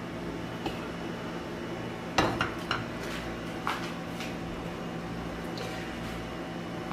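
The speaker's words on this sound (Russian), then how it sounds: "ставим кастрюльку на огонь" A pot is set on a stove burner while making Turkish potato soup, giving a few light metallic clanks and knocks in quick succession over a quiet kitchen background.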